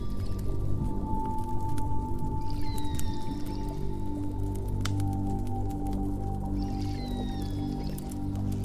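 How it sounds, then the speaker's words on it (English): Pilot whales calling underwater in deep water, with rising whistles and clicks over a steady low hum and a tonal drone. "Pilot whales."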